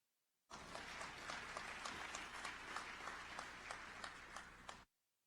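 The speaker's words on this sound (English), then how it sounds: "You can clap on that." A crowd claps for a mayor's state of the city speech in West Palm Beach, a dense, even burst of many hands starting abruptly, holding steady for several seconds, then cutting off sharply, with no voices over it.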